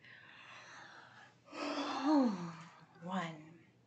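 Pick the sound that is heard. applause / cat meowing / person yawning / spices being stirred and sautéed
person yawning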